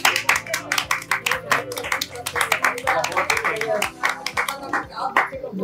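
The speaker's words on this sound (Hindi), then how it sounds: "एक बार ताली बजाते हैं सर" A room full of people claps in a steady, brisk rhythm of sharp close hand claps, with someone speaking over the applause.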